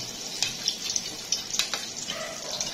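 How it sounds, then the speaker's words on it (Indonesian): Hot oil sizzles and crackles steadily at close range as fish cakes (perkedel) fry, with occasional sharper pops and a faint clink of stirring. "Ini kita menggoreng."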